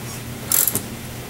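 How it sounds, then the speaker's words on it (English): A wrench gives a brief metallic ratcheting click while loosening a bolt on the jam nut of a MasterCraft boat engine mount, a short close burst over a quiet background. "the easiest way to loosen this jam nut is initially to back off on the top bolt here."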